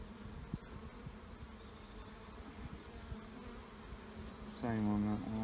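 Honeybees buzz in an open beehive, a dense, steady hum that fills the whole clip, close and moderate in volume, with a louder, nearer drone at the end.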